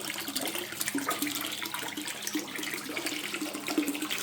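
Water gushes steadily into a tub in a dense, even rush of splashing and bubbling, close and continuous, with no voices.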